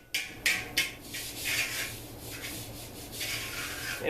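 A metal file rasps across a motorcycle sheet-metal panel during bodywork, with a few sharp strokes at first and then steadier rubbing, close up and with no voices.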